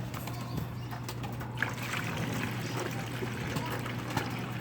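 A steady trickle of water pours and splashes into a container as it is mixed in for tea, with a constant low hum underneath and faint bird calls in the background.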